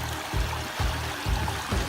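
Water spilling steadily over the rocks of a pondless waterfall in a backyard, a constant soft splashing flow with gentle pulsing surges, heard close and alone.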